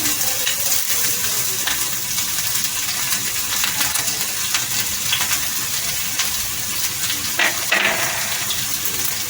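Long-sliced onion sizzling in hot oil with chopped garlic for stuffed eggplant, a steady close crackling hiss with occasional pops and a spoon clink or stir near the end.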